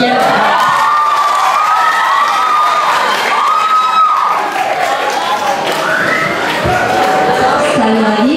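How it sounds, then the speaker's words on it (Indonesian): A school audience at a presentation on traffic accidents in Kupang breaks into loud, sustained cheering and shouting, children's voices prominent, with some clapping mixed into the dense crowd noise throughout. "Sekali lagi kita berikan tepuk tangan yang meriah untuk teman-teman materi"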